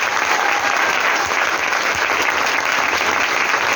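A large audience claps loudly and steadily throughout, a thick continuous roar of hands at a lifestyle business event, with no pause or change in intensity.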